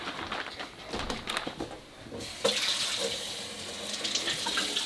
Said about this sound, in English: we're going to wash them off in the sink in cold water